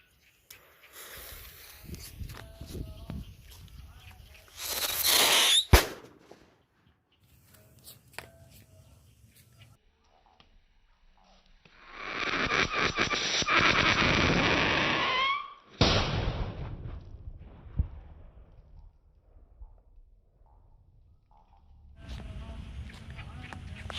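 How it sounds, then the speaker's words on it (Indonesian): Two long, harsh rushing bursts from Whistling Thunder firecrackers, each several seconds, roar out over quieter crackles and rustling, ending abruptly, with brief pops and murmuring voices in between. "kita pakai petasan Whistling Thunder"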